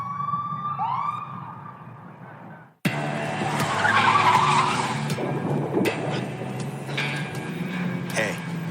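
A car skidding and crashing as a sound effect: a high tire squeal after a siren-like tone, then a sudden loud impact and a long rumble of crunching, scraping metal with sharp clanks.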